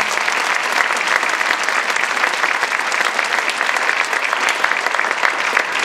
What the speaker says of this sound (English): Round of applause for all the seniors.